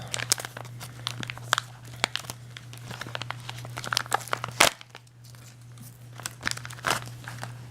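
Plastic packaging crinkles and crunches as it is torn open around a small nylon webbing tool case, a series of close, irregular crackles and rips with a steady low hum underneath.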